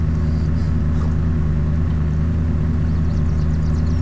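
A car engine in the zombie survival game Unturned drones on steadily, low and even, as the vehicle drives with no change in pitch. Nobody speaks over the engine.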